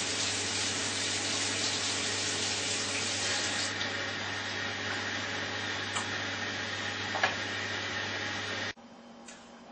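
A water tap runs at full flow of about 10 litres per minute with no water-saving aerator, a steady loud broadband gush that continues unbroken before stopping abruptly near the end.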